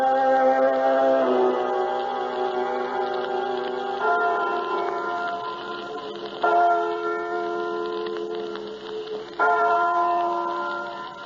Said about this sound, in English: And you know what to do, Martha, when the clock chimes in the steeple.